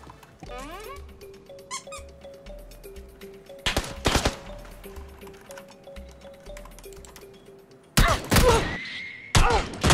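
Gunshots from a shooting video game, a few loud sharp bursts around the middle and a rapid volley near the end, set among electronic game tones and squeaks.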